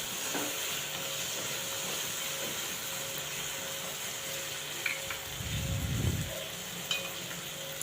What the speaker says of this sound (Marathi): टोमॅटोही आपल्याला छान गाळ होईपर्यंत परतून घ्यायचा आहे यातच अर्धा चमचा हळद घालून घ्यायची आहे